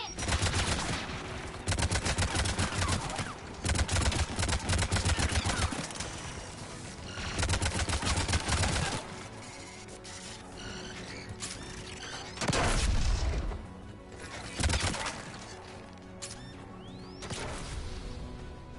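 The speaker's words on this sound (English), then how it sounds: "There! Anti-aircraft guns!" Anti-aircraft guns in a video game fire in long, dense bursts of rapid shots, loud and sustained, broken by short pauses with a quieter stretch in the middle before further volleys.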